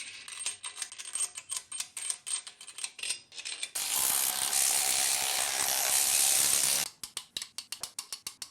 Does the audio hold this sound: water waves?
no